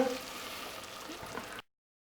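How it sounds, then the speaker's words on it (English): Vegetable stock poured into a pan of cooking risotto rice, a steady close liquid rush and gentle bubbling over about a second and a half before stopping abruptly. "Start adding some vegetable stock."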